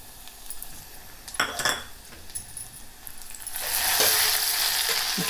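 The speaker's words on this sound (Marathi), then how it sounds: "आता आपण जिरं टाकणार आहोत" Cumin seeds hit hot oil for a traditional village-style shindola vegetable dish: a few light utensil clinks first, then a loud, steady, close crackling sizzle that builds and holds to the end.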